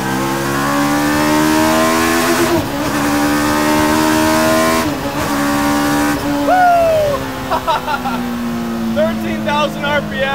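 Custom mid-engine Mini screams at high RPM, around 7,000 RPM while cruising, its loud, close engine note dipping briefly with each quick sequential upshift before climbing again.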